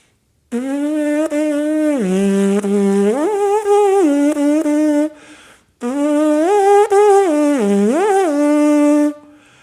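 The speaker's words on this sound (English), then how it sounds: "If I just do a free buzz" A brass player buzzes the lips freely without a mouthpiece, giving loud, reedy pitched tones that slide and waver in two long phrases separated by a short gap.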